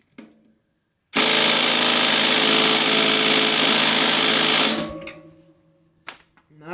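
An impact wrench hammers on a stubborn tiller shoe bolt on a tractor, a loud, close, continuous rattling buzz lasting about three and a half seconds before winding down, followed by a brief clank.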